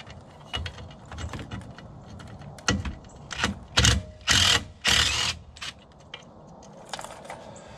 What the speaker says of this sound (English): next we have our e-brake cable we want to pull